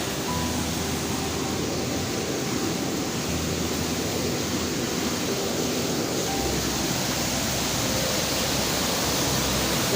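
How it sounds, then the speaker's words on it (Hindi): Water flows out from inside a waste area at a shrine as a continuous, even rushing wash, fairly close and unbroken, with no talk over it. "ये पानी अंदर से आ रहा है कचरे का"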